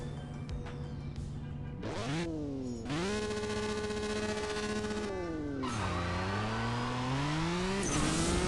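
An Aston Martin DBS launches in a CSR2 drag race, the engine revving hard and climbing through repeated upshifts, each gear change dropping the pitch before it rises again, loud and continuous throughout.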